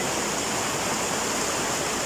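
Flowing stream water at Salian, Abucay, Bataan, a steady close rushing wash with no voices, continuous and even throughout.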